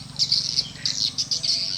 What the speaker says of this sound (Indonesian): ini burung seriti yang lagi bertengger